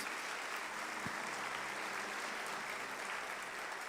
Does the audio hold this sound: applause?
yes